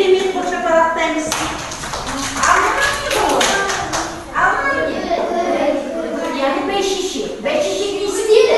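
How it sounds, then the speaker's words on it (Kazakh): Children in a first-grade Kazakh language class clap their hands in quick, uneven rounds of sharp taps, with a teacher and children talking over and between the bursts. "Өте керемет қол шапалақтаймыз."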